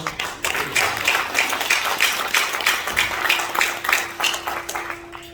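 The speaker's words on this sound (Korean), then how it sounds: "감동적인 시를 읊어주신 두 분께 다시 한번 큰 박수로" Audience applause follows a poem recital at a Christian political forum, a dense, steady clapping from a crowd lasting several seconds at moderate loudness.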